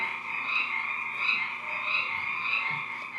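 A dense chorus of frogs croaks continuously in pulsing, overlapping waves, steady and fairly loud, with no voices over it.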